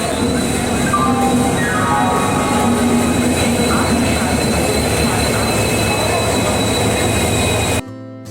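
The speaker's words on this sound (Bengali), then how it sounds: "ট্রেনটা আস্তে আস্তে ঢুকে গেল স্টেশনে" A train rumbles slowly into a station platform ahead of boarding a second-class sleeper coach, steady loud wheel and rail noise with brief rising squeals and tonal whines, ending abruptly near the close.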